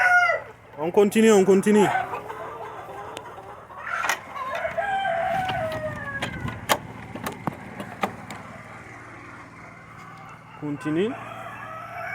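A Goliath breed rooster crows loudly and nearby among other chickens in an outdoor coop, with clucking and someone speaking between calls.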